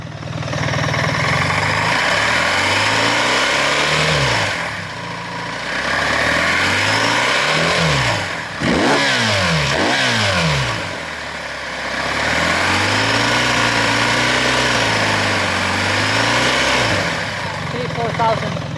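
A BMW R1300GS motorcycle engine idles up close and is revved several times, its pitch climbing and falling in repeated loud surges before settling back to a steady idle.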